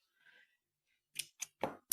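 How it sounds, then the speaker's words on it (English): Scissors snipping a length of embroidery thread: after a faint rustle, four quick crisp cuts ring out close by in a rapid run, with no speech. "I'm only going to cut again a small"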